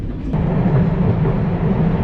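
An old, worn wooden train in Konjic, Bosnia, rumbling along with a steady, loud low roar and rattle heard from inside the carriage, continuous with no speech.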